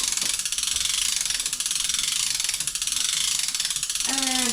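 A Vevor three-quarter-ton manual chain hoist being worked to lift a load, giving a continuous rapid ratcheting clatter of chain and pawl, close and steady for several seconds.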